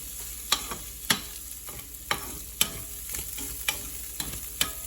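Fried tinapa (smoked fish) going into a pan with sharp, spaced clacks of a spatula against the pan over a low continuous sizzle, close and without speech.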